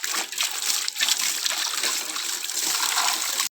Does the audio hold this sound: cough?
no